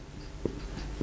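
Marker or chalk tapping and stroking on a board during a biochemistry lecture on fatty acid synthesis, two brief soft knocks over a quiet room hum, with no talking.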